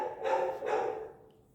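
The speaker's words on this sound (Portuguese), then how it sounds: "esse cachorro aí gritando." A neighbour's dog barks twice in quick succession, moderately loud and slightly distant, followed by a fading tail of echo and quiet.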